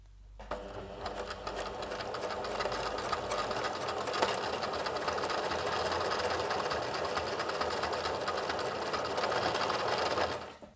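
A household sewing machine runs a zigzag stitch, attaching Arctic Marble Frost Fox fur to fabric, a steady, fast mechanical whirring and clatter that builds quickly and runs continuously for about ten seconds before stopping, with no voices.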